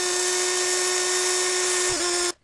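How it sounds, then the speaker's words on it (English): A drill whines at a high, steady pitch as it bores a hole through metal clamped in a vise, the tone dipping briefly near the end before it cuts off abruptly. "Just cleaned off the back of that hole I drilled"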